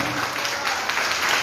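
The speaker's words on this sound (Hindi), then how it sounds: "एक और जोड़ी के लिए जोरदार तालियां होनी चाहिए।" Audience applause for a couple at a Bhojpuri music stage event, a brief, dense burst of clapping from a large crowd that stays steady and fairly loud throughout.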